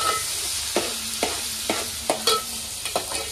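Marinated food with masala and tomato is stir-fried in a pan, a steady sizzle broken by about eight sharp scrapes and clinks of a spatula at an irregular rhythm, close and moderately loud with no talking.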